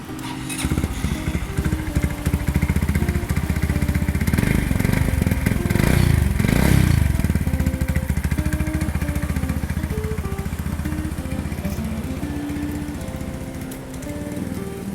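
A 2019 Stallion VTR 125 motorcycle with its original engine idles close by, a steady, loud putter that rises briefly in the middle as the throttle is blipped, then settles back to an even idle.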